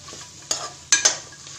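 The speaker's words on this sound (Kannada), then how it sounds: "ಈಗ ಇದನ್ನೆಲ್ಲ ಹಾಕ್ಕೊಂಡು 1 2 ರಿಂದ 3 ನಿಮಿಷ ಚೆನ್ನಾಗಿ ಫ್ರೈ ಮಾಡ್ಕೋಬೇಕು" Vegetables coated in masala sizzle steadily in a pan for a bachelor-style pulav, with a few sharp scraping stirs of a spatula standing out over the continuous frying hiss.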